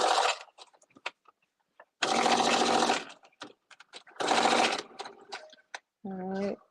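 Sewing machine running a back stitch: three loud bursts of rapid mechanical whirring separated by pauses, then a short final run, with soft clicks and handling noises in the gaps.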